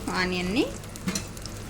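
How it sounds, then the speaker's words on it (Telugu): Onions fry in hot oil with a steady background sizzle, briefly overlapped by a sliding tonal sound near the start and a few light clicks, heard up close. "ఇప్పుడు ఆనియన్ వేస్తున్నాను. ఆనియన్ కూడా వేసి బాగా ఫ్రై చేసుకోవాలి."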